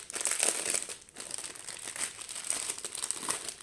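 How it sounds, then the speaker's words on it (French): Packets of diamond painting rhinestones are torn open and handled, giving close, crisp plastic crinkling and rustling in irregular bursts with no speech. "On va ouvrir les diamants."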